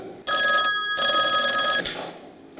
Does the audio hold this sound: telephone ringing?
yes